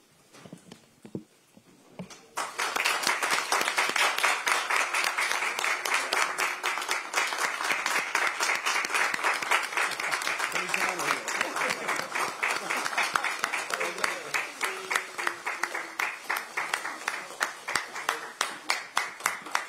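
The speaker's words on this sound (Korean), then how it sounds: "모두 자리에서 일어나 큰 박수로 맞이해 주시기 바랍니다." An audience at a Democratic Party meeting stands and applauds as presidential candidate Lee Jae-myung enters: after a few quiet seconds and some scattered claps, loud, sustained clapping bursts in and continues, with rhythmic claps emerging near the end.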